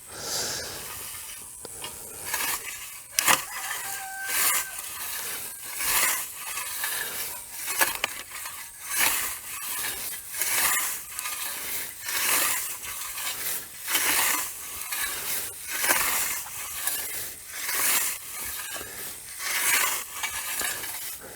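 A scythe mows through hay and sweet potato plants in steady, rhythmic swishes, about one stroke per second, each a close, airy hiss of cutting through vegetation, with no one talking.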